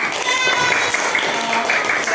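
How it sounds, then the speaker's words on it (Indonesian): A classroom of students applauding together, a dense steady patter of many hands clapping close by, with a voice talking over it. "Jadi tepuk tangan untuk kita semua."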